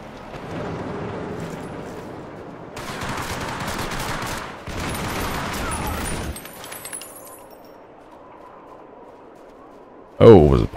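A tank turret fires in the World War II shooter Hour of Victory, loud rattling bursts of gunfire over a low battlefield rumble, ending in a short loud burst with a voice.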